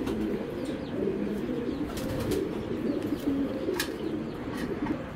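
A master-bred racer pigeon coos in low, throaty, repeated rolls close by, with faint background chirps and a few scattered clicks over several seconds, no speech.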